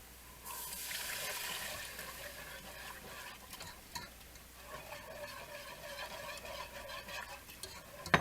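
Clam juice being whisked into a pot of clam chowder: a continuous wet, sloshing swirl with a faint metallic rattle, close and steady throughout.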